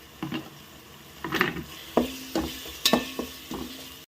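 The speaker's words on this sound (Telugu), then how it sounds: "ధనియాల పౌడర్ మసాలా పౌడర్ వేసుకొని బాగా కలుపుకోవాలి" A spoon stirs coriander and masala powder into chicken khichdi in a pan, with a series of scraping strokes and soft clinks against the metal over a faint sizzle, close and unhurried.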